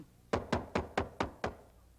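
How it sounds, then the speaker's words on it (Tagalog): Six evenly spaced knocks on a door, close and fairly loud, with no talking. "May kumakatok."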